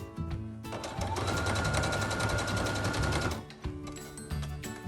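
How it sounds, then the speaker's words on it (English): A sewing machine stitches a fabric ear saver, its fast, even needle rattle running steadily for a couple of seconds, close and clear, with short starts and stops before and after. "stitch down the centre"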